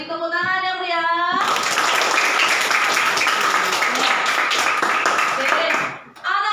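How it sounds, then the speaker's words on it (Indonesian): Children in a classroom break into loud, enthusiastic applause after a teacher speaks, dense clapping that carries on for several seconds before tapering off. "Beri tepuk tangan yang meriah."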